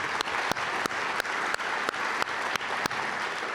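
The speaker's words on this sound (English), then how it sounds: "I'd like to give another round of applause to our prelude player, Grace Shepard," Lecture audience applauding a prelude player from a hospital healing-arts program: a steady, dense wash of many hands clapping, with a few sharper accents, continuing throughout.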